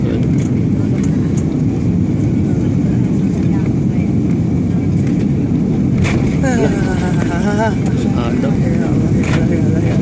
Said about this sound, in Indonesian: Sebentar lagi kita mendarat di Kolombo.